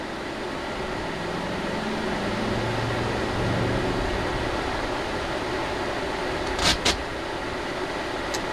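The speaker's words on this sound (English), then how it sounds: "let's kick on our furnace and see what happens here" A pop-up camper furnace blower runs steadily, pushing cold air in a broad, constant whoosh that buffets the mic, with two brief faint ticks near the end and no voices.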